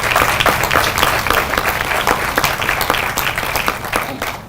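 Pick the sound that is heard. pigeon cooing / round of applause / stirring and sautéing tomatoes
round of applause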